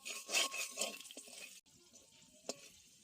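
Garlic, green chili and nigella seeds frying in hot oil in a pan: a soft, steady sizzle that is livelier at first and then settles, with a brief stir and a small clink near the end.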